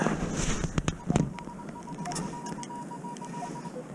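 Electronic beeping tones from a Minelab Equinox 900 metal detector on a beach, a steady repeated tone with brief higher chirps, over outdoor background noise and a few clunks.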